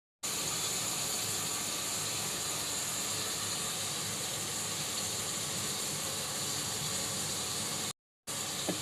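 Onions frying in a pan for mutton stew, a steady loud sizzle and hiss that runs almost unbroken before cutting out briefly near the end.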